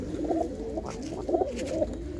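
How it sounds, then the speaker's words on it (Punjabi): Pigeons coo in soft, repeated rolling calls close by, a domestic pair of box-type pigeon and hen, the coos coming in two or three rounded bursts with no one talking. "ਇਹ ਜੋੜਾ ਹੈਗਾ ਡੱਬੇ ਦਾ ਤੇ ਨਾਲ ਸ਼ਾਖੀ ਕਬੂਤਰੀ ਆ"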